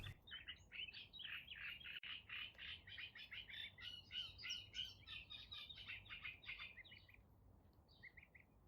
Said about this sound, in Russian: Будет пение птиц, шум воды, разговоры лебедей между собой с птенцами.